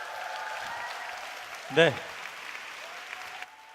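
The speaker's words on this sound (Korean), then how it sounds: "재미있게 열정 넘치는 강의를 전달해 주신 정명현 교수님께 다시 한번 박수 부탁드리겠습니다." A lecture audience gives a short burst of clapping for a professor, brief and moderately loud over a quiet hall, with talking before and after.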